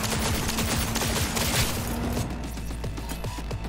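Rapid gunfire in Cyberpunk 2077, loud sustained bursts of automatic shots crackling over a busy combat mix, easing into sparser, quieter shots toward the end.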